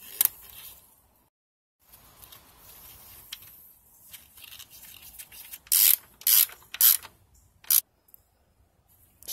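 A ratchet tightens a nut during valve cover gasket work on a Jeep Wrangler JK 3.8L, giving bursts of close, sharp clicking that start around the middle of the clip, with quieter rubbing and handling noise before them.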